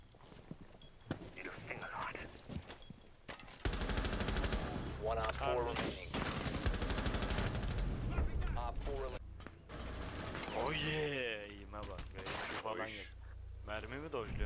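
Gunfire in a Rainbow Six Siege match: sharp repeated shots and bursts ring out through most of the stretch, loud and close, mixed with game effects and excited voices talking over the action.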